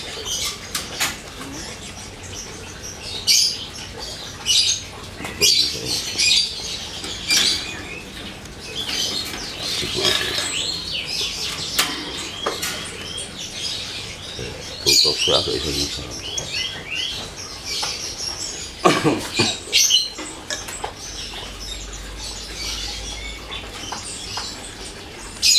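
Lovebirds chirp and squawk close by in sharp, irregular bursts, with rustling and flapping in between and short gaps of quiet.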